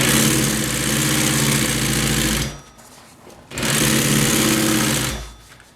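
Sewing machine stitching upholstery for an exercise bench, a loud, fast mechanical whir that runs steadily, stops briefly for about a second, then resumes and trails off near the end.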